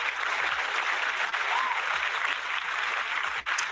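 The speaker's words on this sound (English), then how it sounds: "let me get the clapping in" A host plays an applause sound effect: a dense, steady crowd clapping that stays loud and even for several seconds.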